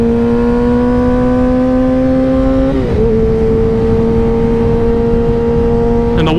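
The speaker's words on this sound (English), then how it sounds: "Oh, that's loud. That M4 is loud," Kawasaki Ninja ZX6R 636 sport bike with a loud aftermarket M4 exhaust, heard up close while riding: a steady, droning engine note that dips briefly as it shifts gears, then holds a high, sustained tone with no talking.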